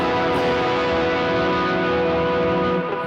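A single rhythm guitar strum rings out on a two chord played in a CAGED shape, one sustained chord that holds and slowly fades, close and alone.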